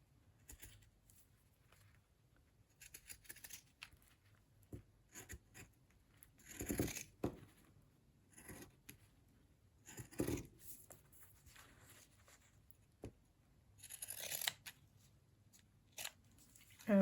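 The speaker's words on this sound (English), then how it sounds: "let's see what I can do with pinking shears." Pinking shears snipping through fabric: sparse, faint crunchy cuts and scratchy rustles, with a few louder chomping snips spaced several seconds apart in a quiet room.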